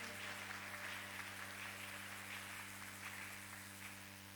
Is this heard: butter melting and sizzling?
no